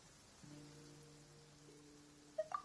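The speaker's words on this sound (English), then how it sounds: "It's raining." Soft, steady rain falls in the video game Genshin Impact, a faint even patter with a low held tone underneath and a few brief chimes near the end.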